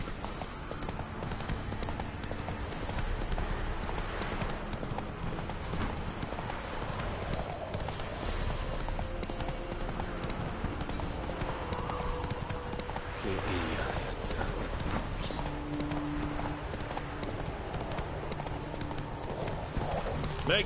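Roach, the horse in The Witcher 3, gallops with steady, rapid clip-clopping hooves under game music, while voices talk over the hoofbeats.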